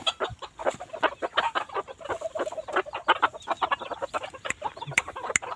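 Several free-range short-legged bantam chickens cluck in quick, overlapping bursts, a busy, close-up flock sound with no talking.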